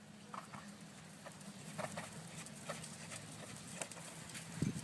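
A horse in a working trot in an arena, its hooves giving a faint, even two-beat clip-clop under steady background noise, with a few bird chirps.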